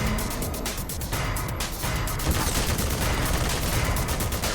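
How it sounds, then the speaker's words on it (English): A 25mm chain gun, an automatic light cannon, firing in Black Mesa: a sustained burst of rapid, loud heavy reports with dense crackling impacts, close and continuous for several seconds. "That's a 25mm chain gun. It's an automatic light cannon."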